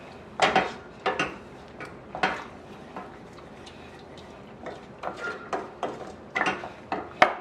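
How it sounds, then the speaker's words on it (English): Guava BBQ sauce mixed with chili sauce in a pot gets a quick stir, with a series of sharp clinks and scrapes of a utensil against the pot in irregular bursts. "Just give that a quick stir"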